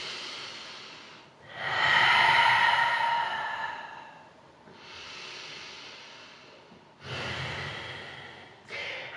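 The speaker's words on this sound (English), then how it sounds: "We'll take 2 more breaths here." Deep, slow breathing during a slow-flow yoga practice: long audible inhales and exhales, breathy and close, in three or four drawn-out cycles with no talk.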